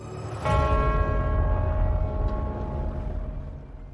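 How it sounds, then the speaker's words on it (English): The bells of St. Paul's Cathedral in London strike with a sharp onset, then a long rich ringing hum sustains and slowly fades, with a faint second strike partway through. "the bells of St. Paul's rang out, signalling a national crisis"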